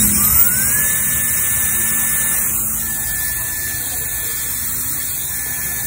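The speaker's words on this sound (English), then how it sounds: "this is the most advanced blow dryer in the world" IQ blow dryer running with its nozzle removed, a steady loud airy rush with a high motor whine that rises as it spins up, then holds evenly.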